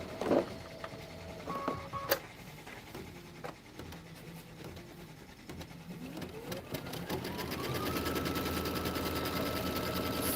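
A sewing machine stitching a quilt border, its needle chattering in fast, steady bursts that speed up into a continuous run toward the end, close and clear.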